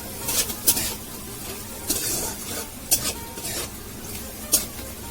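Onion, dried red chilli and bay leaves frying in a pan for a winter duck curry, a soft steady sizzle broken by several sharp scrapes and clinks of a spatula stirring against the metal, close and fairly quiet.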